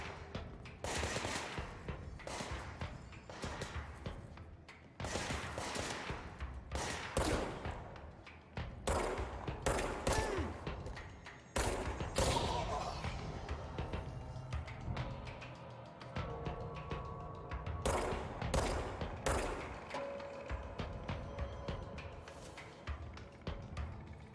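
Gunfire in the video game Control: dense, loud automatic bursts and rapid shots repeat across the whole stretch, with brief gaps between volleys and heavy thumps mixed in.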